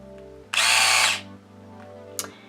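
Electric epilator running with a steady motor hum, plus a short burst of harsh, buzzing whir in the middle and a brief clatter near the end, close and alone.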